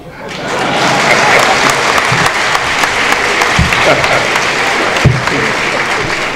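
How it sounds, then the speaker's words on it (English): An audience at a speech breaks into sustained applause, a dense wash of many hands clapping that holds steady for several seconds, with a few louder individual claps standing out. "The clapping was not loud enough."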